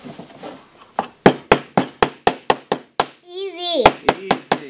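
Nails hammered into wood while building a birdhouse: a steady series of about a dozen sharp, loud hammer blows in quick rhythm, with children talking near the start and a brief vocal sound in the middle.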